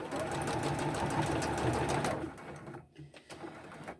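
A sewing machine runs steadily while sewing a fabric face mask, a close, continuous mechanical whir that stops after about two seconds and leaves faint room sound.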